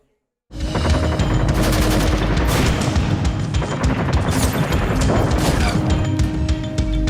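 Loud, continuous gunfire bursts in abruptly: rapid automatic shots and heavy booms overlapping in a dense barrage, close and chaotic.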